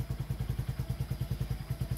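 A motorcycle engine with a freshly replaced battery, after harness trouble had drained it, chugs in a steady rapid idle just after starting; even close thumping pulses carry on with no talk over them.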